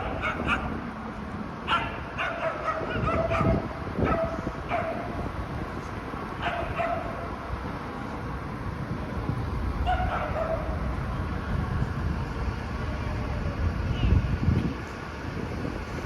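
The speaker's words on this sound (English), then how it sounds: "Oh, I hear a dog barking." Several short dog barks and yips ring out intermittently over steady wind noise in Toronto, fairly distant, with faint talking mixed in.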